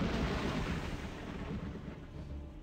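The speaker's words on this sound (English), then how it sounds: "there was another huge explosion." A huge explosion in the horror video game Corpse Party: Blood Drive, heard as a loud, sustained low rumble that rolls on steadily and fades only slightly over a few seconds.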